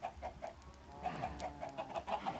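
Chickens in a Minecraft pen cluck repeatedly in a steady, busy rhythm, several birds overlapping at moderate loudness with a faint background hum and no talk.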